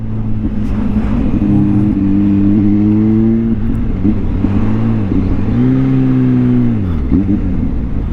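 Kawasaki ZH2, a 2023 supercharged 200-horsepower motorcycle, revs hard through rising and falling engine pitches during a ride, loud and continuous with wind rush and a brief shift dip near the end.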